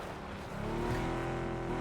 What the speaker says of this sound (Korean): 차 소리였는데 방금?